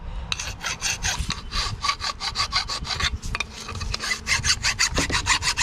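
Rapid scraping strokes, close and rhythmic, rough up the metal surface of a Honda pressure washer pump in preparation for JB Weld, continuing with brief pauses throughout.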